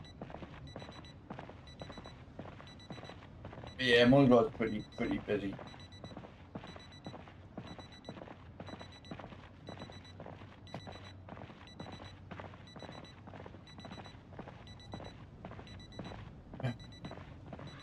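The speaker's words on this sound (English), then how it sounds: "Look, the alarm going off." An alarm rings out in Project Zomboid, a short loud burst of ringing tones standing out over game ambience, with a person talking quietly throughout.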